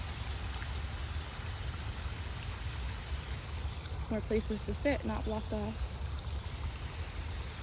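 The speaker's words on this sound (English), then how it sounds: "You see a little man-made waterfall" A steady wash of gently falling water from a small man-made waterfall and pond in a garden runs throughout while a person briefly speaks over it midway.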